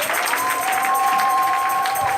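A church congregation applauding and acclaiming the Lord, dense sustained clapping and crowd noise throughout, with a steady held tone running underneath.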